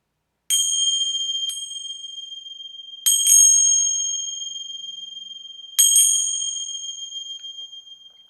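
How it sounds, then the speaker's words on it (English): Metal bells struck three times, each a bright ringing chime that rings on and slowly fades before the next strike, loud and close with nothing else heard. "I am going to ring some bells here"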